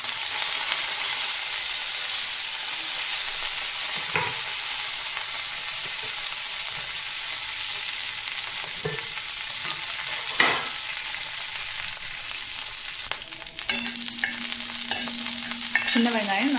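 Small onions, dried chillies and curry leaves fry in a pan with a constant close sizzle, while occasional scrapes and clinks of stirring break through at intervals.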